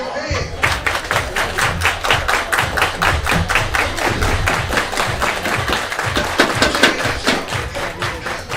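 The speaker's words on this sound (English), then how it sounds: "Everybody clap your hands." A crowd claps in unison at a baseball game: a fast, steady run of sharp claps keeps going throughout over a noisy stadium murmur.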